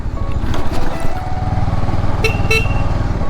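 A motorcycle engine rumbles steadily up close while a horn gives two short honks near the end.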